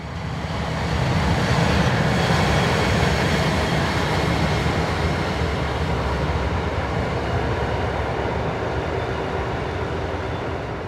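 Swiss locomotive 11189 hauls freight train 50445 from Oensingen toward Egerkingen, a loud, steady rumble of engine and rolling wagons passing close by with continuous wheel noise.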